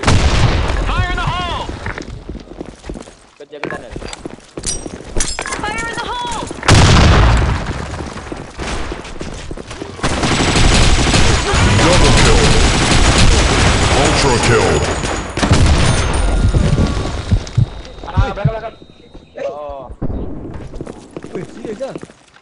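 A video game battle fills with explosions and bursts of gunfire, heavy booms and rapid shots recurring loudly while players talk and shout over the action.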